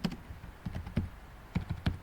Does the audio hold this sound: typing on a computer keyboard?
yes